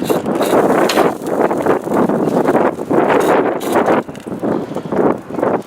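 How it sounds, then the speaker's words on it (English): Gusty outdoor wind buffets the microphone beside an open smoker grill lid while pulled pork cooks, surging in several loud rushes with brief dips between them. "every time I open the lid, the wind decides to blow"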